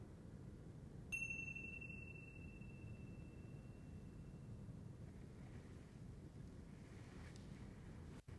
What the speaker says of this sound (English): And just listen to the chime.